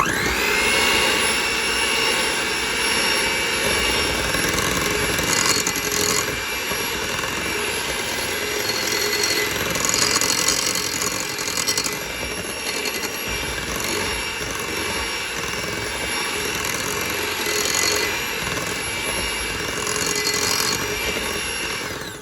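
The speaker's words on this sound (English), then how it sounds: "Now I'm going to blend this together." An electric mixer blends cream cheese cookie dough with almond extract, whirring loudly and steadily throughout with a high motor whine and a slightly fluctuating grinding texture.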